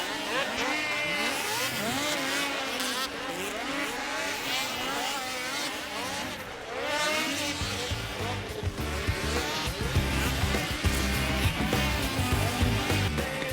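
Racing snowmobiles from a Pro Open qualifier at Canterbury scream toward the finish line, several engines whining with rising and falling pitch sweeps, growing louder and heavier near the end.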